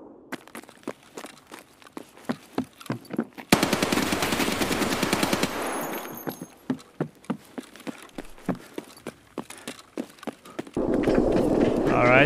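A UMP submachine gun fires in a video game shooter, with rapid sustained bursts alternating with spaced single shots and rhythmic footsteps, loud and close, as a player talks over parts of it.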